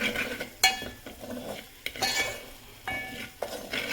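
A spoon scrapes and stirs spices through a cooking pan in uneven strokes, with a soft sizzle underneath and occasional clinks against the metal.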